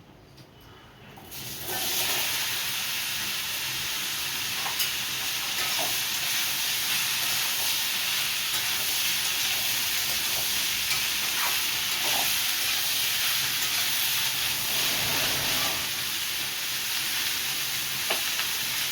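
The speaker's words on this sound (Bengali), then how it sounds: "এই তেলের মধ্যে আমি আরেকটু তেল দেবো। লাউটা দিয়ে দেবো।" Bottle gourd pieces sizzle and fry in hot oil for a fish-head curry, a steady loud hiss that starts abruptly after a brief quiet moment and holds evenly, with occasional faint clinks of stirring.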